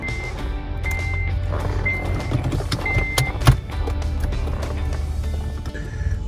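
A car crawls home through heavy traffic with a low steady engine and road rumble, repeated reversing beeps from a nearby truck, and one sharp knock partway through.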